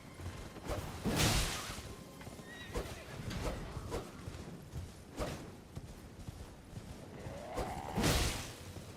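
In the video game Elden Ring, a horse gallops and whinnies as it is killed by a bat. Hoofbeats, whooshing strikes and thuds are scattered across the scene, and a sharp rising neigh comes near the end.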